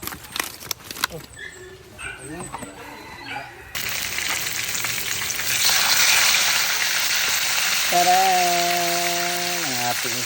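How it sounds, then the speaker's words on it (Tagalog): Oil crackles and sizzles steadily as fish fries, starting after a stretch of clattering kitchen noise; a voice speaks briefly near the end. "Isdang prito"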